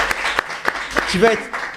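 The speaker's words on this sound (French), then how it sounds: "je pense qu'on peut l'applaudir d'ailleurs parce que c'est quand même exceptionnel" Short burst of scattered clapping for trail runner Alix Noblat after she shares her news of expecting a child, mixed with a voice talking over the claps.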